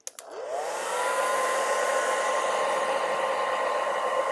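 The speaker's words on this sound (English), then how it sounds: "We can do the same thing with a blow dryer and a ping pong ball." A blow dryer clicks on and spools up into a loud, steady whooshing roar with a rising whine, running continuously close by while a ping pong ball floats in its airstream; no talk.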